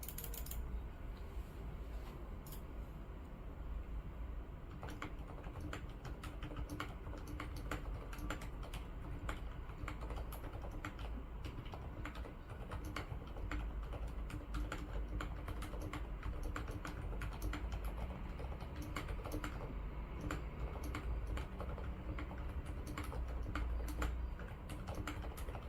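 Steady close-up typing on Kailh Ice Cream Pro, Hape and TTC Silent Red mechanical keyboard switches, a dense run of soft clacks and muted thocks continuing without pause, no voices.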